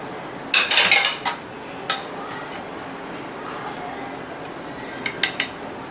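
Cooked egg paniyaram being lifted out of the pan: a cluster of metallic clinks and scrapes of a utensil against cookware early on, then a few scattered clicks and taps over quiet background, close and moderately loud.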